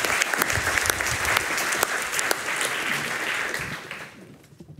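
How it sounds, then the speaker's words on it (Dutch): An audience gives warm applause as a speaker is welcomed at a climate debate on fossil subsidies, with dense, even clapping for about four seconds before tapering off. "Mag ik alsjeblieft een warme applaus voor Ties Joost?"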